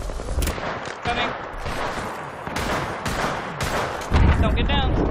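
Rapid bursts of gunfire in the battle royale game Apex Legends, sharp repeated shots and volleys through a firefight, with loud impacts near the end and game voice lines layered in.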